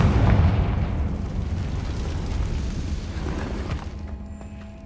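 A Confringo spell bursts in Hogwarts Legacy as a loud, booming explosion with a strong low-end thump, its crackling rumble tailing off over a few seconds into quieter debris sounds.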